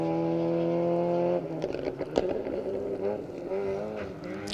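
Rally car on Greystoke Stages gravel stage 6, a steady engine drone that breaks into revving and rasping bursts as it drives past, moderately loud with no talk.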